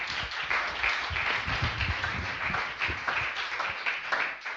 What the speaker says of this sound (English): So just another round of applause to them